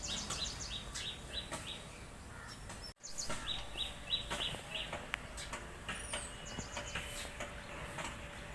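Sparrows at their nest give faint, scattered high chirps and tweets from a short distance, intermittent over a low steady background rumble.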